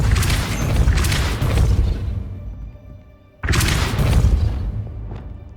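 Depulso force spell striking in Hogwarts Legacy: a heavy booming blast with a whooshing rush, fading away, then a second loud impact boom hitting abruptly and decaying.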